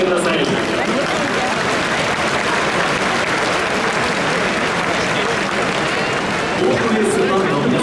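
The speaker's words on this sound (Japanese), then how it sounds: "拍手でお迎えください。" Stadium crowd applauding steadily for the ceremonial first pitch by auto racer Koji Ikeda at a Chunichi baseball game in September 2022, a dense, continuous wash of clapping filling the whole stretch without break.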